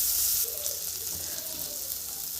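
Prawns frying lightly in a pan for lau chingri, a Bengali bottle gourd and shrimp dish, giving a steady soft sizzle and hiss that stays constant throughout with no talk.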